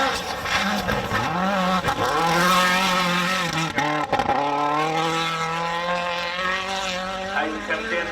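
Rally race car at full throttle on a gravel stage as it launches over a big jump nose-up, a loud sustained engine drone with pitch swings and a brief dip near the landing, commentary voices layered over it.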